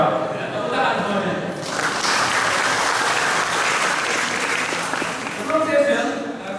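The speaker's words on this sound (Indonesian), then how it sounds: "Tepuk tangan semuanya." Audience applause fills a scout seminar hall for the Pramuka Garuda program in Kuningan. Dense, steady clapping swells after a brief spoken opening and holds for several seconds before easing off.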